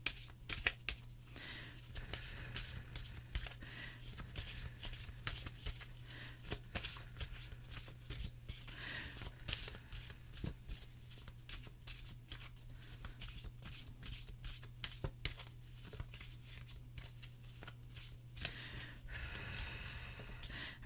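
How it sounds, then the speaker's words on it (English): A deck of tarot cards is shuffled over and over, a continuous run of soft riffling and quick papery flicks, close and quiet, with no voices. "that's 10 shuffles through"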